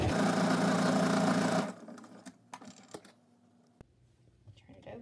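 A sewing machine runs steadily down the middle of a cotton piece for about a second and a half, then stops, followed by light handling clicks and fabric shuffling.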